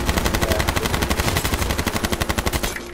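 Rapid automatic gunfire in the H1Z1 video game, a loud, even stream of closely spaced shots running the whole time with no talk.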